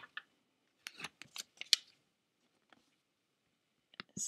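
Computer mouse clicks at a desk during a WordPress webinar setup: a quick cluster of sharp, crisp clicks, then a pause and a few more close clicks, with near silence between them.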